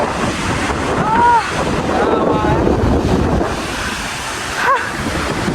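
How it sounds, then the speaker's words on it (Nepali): Strong wind roars steadily and close, rumbling across the microphone, with a couple of faint voice-like tones briefly rising above it. "यहाँ चाहिँ खतरा हावा आउँछ"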